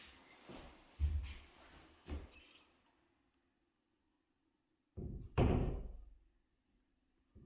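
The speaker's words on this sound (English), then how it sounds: "So we put the shim in, close the door" While a new house is being built, a door is closed and tested as a shim is fitted to level it: a few close wooden knocks, then a heavier thudding close after a quiet pause.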